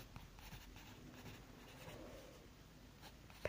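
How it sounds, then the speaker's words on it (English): A pen writes a name on paper in quiet, faint close strokes, a soft continuous scratching with small pauses and a sharp tap at the end. "So we're going to write Anthony"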